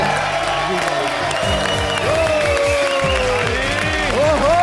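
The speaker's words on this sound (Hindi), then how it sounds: "जोरदार तालियां हो जाए इनके लिए।" A studio audience at a TV comedy roast show claps and cheers loudly and continuously, with voices shouting over the sustained applause.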